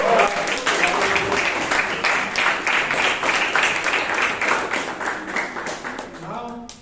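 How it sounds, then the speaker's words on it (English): Audience applause for a speaker at a Toastmasters club meeting in Bangalore, lively clapping from a modest group with distinct individual claps, tapering off as a voice begins at the end. "have a big round of applause for KG"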